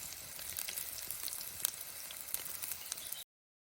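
Crushed garlic and onion frying in a pan, giving a steady, soft crackling sizzle at close range with a few sharper pops, before it cuts off abruptly.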